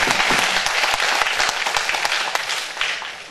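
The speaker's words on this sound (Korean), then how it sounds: "하나님께 영광의 박수 줘" A church congregation at a New Year blessing service breaks into loud, dense applause, many hands clapping at once and fading slightly toward the end.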